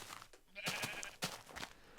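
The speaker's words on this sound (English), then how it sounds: "Oh, that's a sheep." Sheep bleating in the video game Minecraft, a few short wavering calls close by, repeated over two seconds with faint background sound between them.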